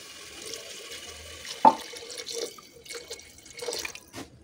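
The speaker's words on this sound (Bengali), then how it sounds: "এবার আমি সিদ্ধ হওয়ার পানি দিয়ে দিব।" Tap water runs and splashes into a pot of browned meat being set to boil for a stew with taro, uneven gurgling flow with a sharp clank partway through, close and fairly quiet.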